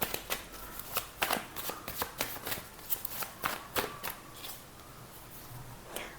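Tarot cards shuffled and drawn during a reading, a run of crisp, close card flicks and snaps in an irregular rhythm that slows and fades toward the end, with no talk.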